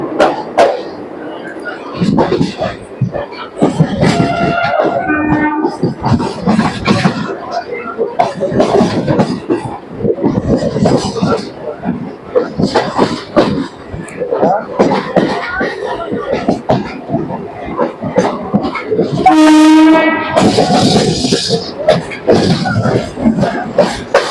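Sealdah to Barrackpore local train running on rails, heard from inside as a steady loud rumble and clatter under continuous passenger chatter, with a brief tonal horn-like blast near the end.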